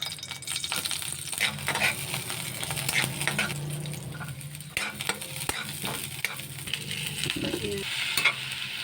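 Pork for humba sautés in plenty of oil in a pan, a continuous sizzle broken by repeated scraping and stirring of a utensil against the pan.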